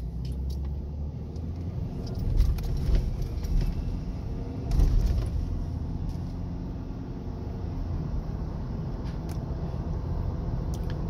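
A Ford Ranger in sport mode drives down a street, its engine holding a steady low rumble with two brief swells as it revs, heard from inside the cabin with no talking.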